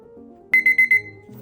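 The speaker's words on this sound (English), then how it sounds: "I set my timer for 12 minutes" A timer alarm goes off during a pen-and-ink texture drawing session: four quick, loud electronic beeps in a steady rhythm, with quiet room tone before and after.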